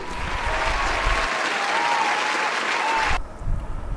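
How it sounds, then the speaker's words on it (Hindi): An audience at a music competition applauds steadily and loudly as a dense wash of clapping throughout, with a faint tone running underneath and the clapping thinning near the end. "अतः एक बार आपकी तालियां बजे इनकी हौसला अफजाई के लिए।"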